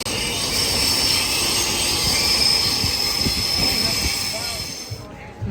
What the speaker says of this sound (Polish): Akurat pociąg.